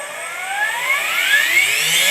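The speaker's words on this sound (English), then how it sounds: "you'll probably hear the motor spin up, as well as see the RPM climb" An RC model electric motor spinning up while an FrSky Smart Port RPM sensor reads it, a loud close whine rising steadily in pitch over two seconds, heard alone.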